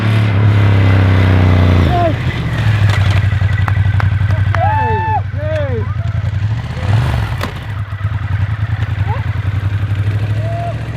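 Ducati motorcycle engine running loud and close at a braking course, a steady low rumble with rising and falling revs, while voices talk over it.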